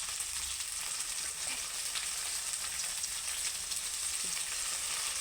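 Masoor lentils fry in oil in a pan, a steady, dense sizzle with fine crackling that holds at an even level throughout.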